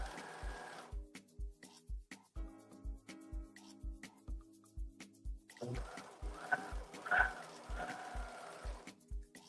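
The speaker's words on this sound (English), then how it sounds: "both the fronts are sewn together with the serger" A Pfaff Admire 1000 serger stitches yoga set fabric with a steady rapid mechanical thumping, close and even in rhythm, with some faint background clatter partway through.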